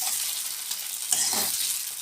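Food frying in a pan is stirred once more after two minutes of cooking, a soft continuous sizzle with a brief scrape of the spatula midway, faint and close.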